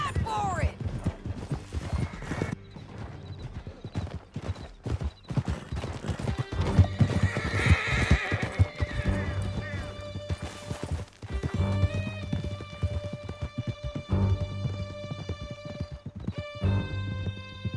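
Horses gallop in Red Dead Redemption 2 with rapid hoofbeats and whinnies during a chase through a canyon, loud and continuous under shouted voices and game music.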